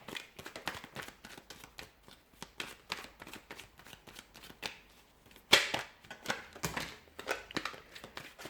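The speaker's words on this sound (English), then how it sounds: "Oh, I've got a few cards that have fallen out. Just going to reshuffle." A deck of tarot cards is shuffled again after a few cards fall out, producing dense riffling flutters and crisp slaps in continuous bursts, close and clear, with one sharp snap midway and no talking.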